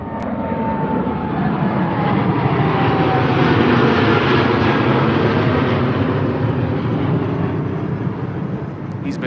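A WestJet Boeing 787 departs Heathrow for Canada, its jet engines giving a loud, steady, broad roar that holds for the whole stretch without letup.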